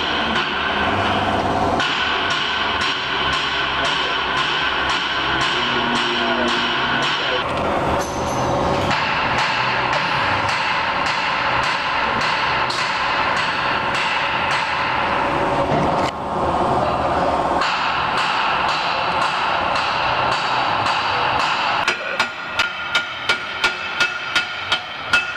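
A bolt on the lower control arm of a 2008 Ford Edge is struck with a hammer. Loud, dense metallic clanking runs throughout, ending in a rapid series of sharp, evenly spaced blows.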